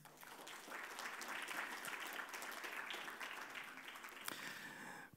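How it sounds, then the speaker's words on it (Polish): Sustained applause from an audience at a thank-you ceremony honouring sponsors, a dense, even wash of clapping with one sharper clap near the end, heard fairly faintly from a distance. "Ogromne brawa."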